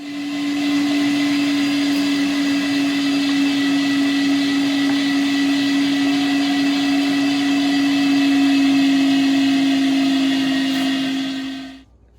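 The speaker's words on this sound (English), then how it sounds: "And then we'll get that all grinded up and see what it looks like at the end." An LEM Mighty Bite #8 500-watt electric meat grinder runs with its fine plate fitted. Its motor gives a loud, steady, close drone with a strong hum that holds unbroken and then cuts off at the end.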